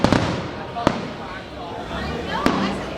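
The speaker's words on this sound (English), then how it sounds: "The fireworks show is going on behind me. That's what you're hearing." A fireworks show at Disneyland in Adventureland, with a few distant sharp bangs scattered over a crowd murmur and a person speaking nearby.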